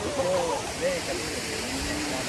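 Umru waterfall in Karbi Anglong rushes as a steady, broad roar throughout, with a voice talking over it.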